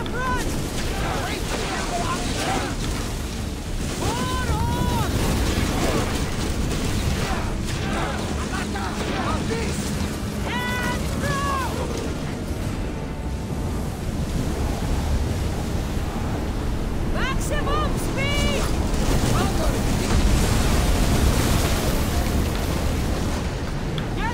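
Wind at sea in Assassin's Creed Odyssey, aboard a ship, rushing and churning with surf as a constant loud wash while people talk over it.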